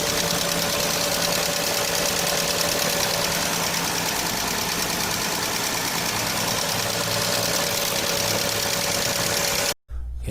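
A Hyundai Grandeur TG engine idling with tappet noise, heard close and loud as a steady, dense mechanical hum with a faint knocking texture, running unchanged for about ten seconds before a sudden cut.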